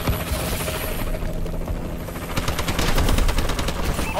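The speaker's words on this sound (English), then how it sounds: "Friendly warbird in the air." A warbird gunship attacks in the Call of Duty Advanced Warfare video game, with a steady rotor-like roar under rapid machine-gun fire that grows denser and louder in the second half.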